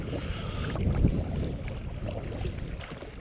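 Paddling a Sea Eagle FastTrack 385ft inflatable kayak at a steady pace across open water, with soft splashing and water rush under constant wind buffeting on the microphone, no voices.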